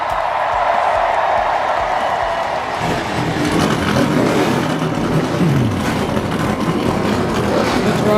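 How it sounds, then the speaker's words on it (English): NASCAR race car engines firing up together at Daytona: a dense, loud roar of many engines with revving rising over a steady crowd din, continuous throughout. "Drivers, start your engines!"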